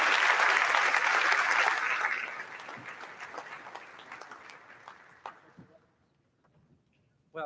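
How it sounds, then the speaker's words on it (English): An audience at a high school senior distinction awards ceremony applauds loudly, the clapping gradually thinning and fading out over several seconds, with a voice starting to speak at the very end. "let's give him a big round of applause"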